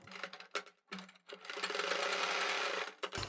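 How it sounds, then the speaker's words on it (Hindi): A sewing machine stitches along the edge of a fabric strip for a piping neckline, running in short bursts with brief pauses, then a longer steady run up close. "तो यहाँ से हम इसकी किनारी पर सिलाई लगाना स्टार्ट करते हैं और दूसरी तरफ भी इसकी किनारी पर हम सिलाई लगा देंगे।"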